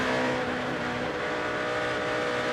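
NASCAR stock cars racing at Charlotte in the 2007 Bank of America 500, a loud, continuous engine roar from a pack of cars on track, steady and dense.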